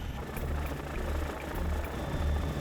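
An ice reconnaissance helicopter flying over the Saint Lawrence gives a steady, rumbling rotor and engine drone with a low throbbing beat, heard continuously from inside or close by.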